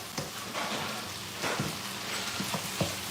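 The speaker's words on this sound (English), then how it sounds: "I'm dropping these tomatoes in here. Let me stir these up." Tomatoes hiss and sizzle in a hot pan as they are stirred, a dense, continuous crackle broken by soft scraping pulses of the spoon, with no voices.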